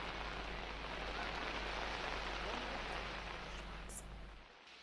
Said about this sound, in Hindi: रुक रुक कर पहाड़ों पर बारिश हो रही है